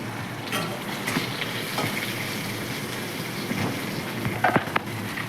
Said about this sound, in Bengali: রাঁধুনি ফোড়ন দেওয়ার পরে আমি এই উচ্ছেগুলো তেলের মধ্যে দিয়ে দেবো।